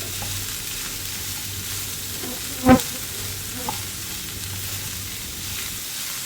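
Shredded cabbage frying on high flame for cabbage poriyal, a steady soft sizzle throughout with one sharp clink of a utensil near the middle.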